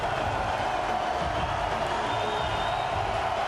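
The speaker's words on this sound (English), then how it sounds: "They leave the arena to a rapturous applause" A large basketball arena crowd roars and applauds at a World Cup game, a dense, steady wash of cheering and clapping that holds at full loudness throughout.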